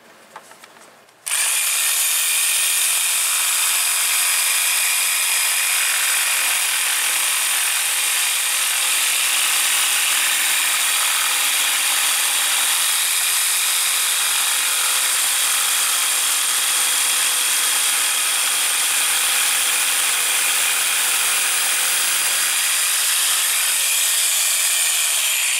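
A circular saw cutting wood in a workshop, starting with a short click before a loud, continuous high whine of the blade biting through the board for over twenty seconds, close and alone.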